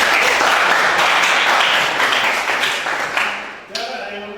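Students in an automotive workshop classroom clap together in a dense burst of applause that gradually thins and fades, followed by a voice speaking at the end.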